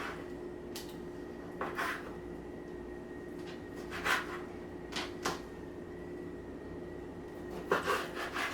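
Knife cutting through boneless steak for pepper steak, a few short rasping strokes spaced apart over a steady low background hum, close and fairly quiet.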